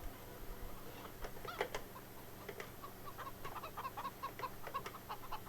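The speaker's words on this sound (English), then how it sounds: "So it's actually a pretty big chicken yard here." Chickens cluck in a large chicken yard, with scattered clucks and short calls at a moderate distance over a low steady background hum.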